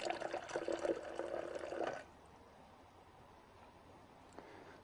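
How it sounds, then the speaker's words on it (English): Water pours and splashes into a container for a couple of seconds, then stops, leaving quiet room tone with a faint drip. "Pour some water into the bottom."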